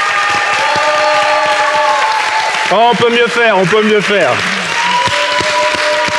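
A church congregation claps and cheers loudly in praise of Jesus, the sustained crowd applause filling the space while someone speaks over it in French.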